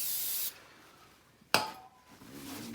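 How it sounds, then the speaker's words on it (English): Carb cleaner hisses from an aerosol can onto the housing of a 33cc Rapala Vortex ice auger in two short close bursts, the first about half a second long and the second a quick sharp spurt, with quiet in between. "Now just gonna take some carb cleaner, spray down the housing a little bit."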